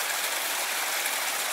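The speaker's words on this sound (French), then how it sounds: "Le petit ruisseau torrent qui sépare la commune de Saint-Pierre-d'Alvar, où Coyolle-Giroux-Garboult est né" A small mountain torrent rushes steadily, a dense, even wash of flowing water close by with no voices.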